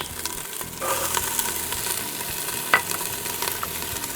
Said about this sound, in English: We're just going to let this saute for probably about 5 minutes.